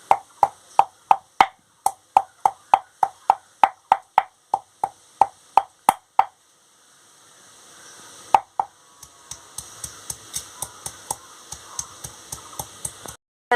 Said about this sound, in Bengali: আমি এই যে শুকনো লঙ্কা আর রসুনটা থেতো করে নিচ্ছি